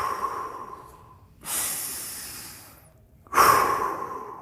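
Deep breaths are taken during a morning hip mobility exercise: a long exhale, then a loud inhale and exhale, and another loud breath starting near the end, close and without talk.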